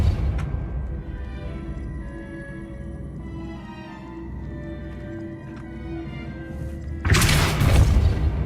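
In Hogwarts Legacy, a Depulso spell is cast outside the castle. A sudden loud, broad blast lands near the end, after quiet in-game ambience with faint thuds.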